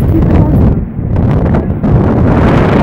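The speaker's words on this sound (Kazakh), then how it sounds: "Жел болып жатыр." Loud, steady wind buffeting the microphone with a roaring rumble outside Madison Square Garden in cold New York City, dipping briefly in the middle before gusting back up.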